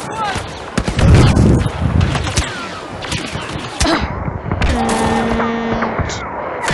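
Blaster guns fire in a video game in bursts of sharp, crackling shots amid other game noise, with someone talking in between.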